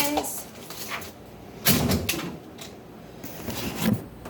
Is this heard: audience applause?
no